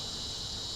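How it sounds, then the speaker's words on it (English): Cicadas in hot Texas weather keep up a steady, unbroken buzzing drone. The sound is fairly loud and lasts only a moment, with no talk over it. "cicadas. Great. Oh, you could hear them."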